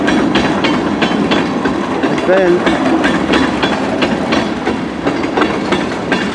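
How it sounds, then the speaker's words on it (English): A westbound CN freight train rolls past close by, with loud rhythmic clickety-clack of wagon wheels over rail joints, an engine rumble underneath and a brief squealing screech, while someone speaks briefly. "Maybe another westbound train."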